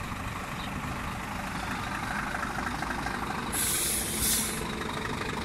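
A truck pulling a new trailer rumbles as it pulls out, its engine a steady heavy drone, then a loud burst of air-brake hiss cuts in partway through, fairly close.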